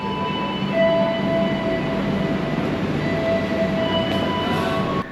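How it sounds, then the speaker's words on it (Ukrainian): A train standing at a station in Indonesia gives off a loud, steady rumble and hum with faint whining tones, continuing without a break before the level drops slightly at the very end. "Поїзд на зупинці з того боку заходиш і з цього виходиш"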